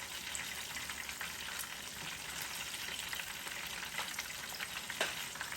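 Shrimp eggrolls frying in hot oil, a continuous crackling sizzle with scattered pops and a couple of clinks as they are turned over, steady and fairly quiet throughout.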